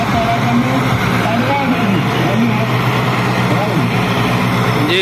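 A tractor engine runs steadily at a village trolley-pulling contest after its gear jams, a loud continuous drone with crowd chatter over it.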